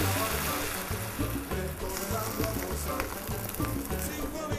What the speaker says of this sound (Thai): คุณผู้ชมตีไข่ ให้ฟูเลยนะคะ นำไข่เทลงไปเลย